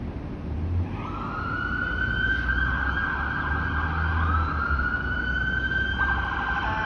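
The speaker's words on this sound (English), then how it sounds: "I'm hearing more sirens" An ambulance siren wails steadily for several seconds, fairly close, over a low Toronto traffic rumble; nobody speaks.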